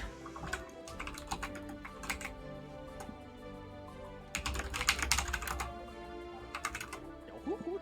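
Rapid clacking on a computer keyboard, close and fairly quiet, comes in uneven bursts of keystrokes with short pauses, then a denser flurry of typing near the end, all without speech.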